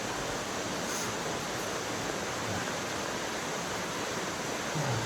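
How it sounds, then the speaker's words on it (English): Heavy rain pours steadily at Hurricane Shelter, a trail shelter on the Appalachian Trail, giving a dense, unbroken roar that stays loud and even throughout with no voices. "And it's still pouring."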